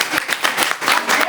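A group claps in a quick, loud burst close by, several sharp claps in a ragged rhythm lasting just over a second, with slight voice sounds mixed in.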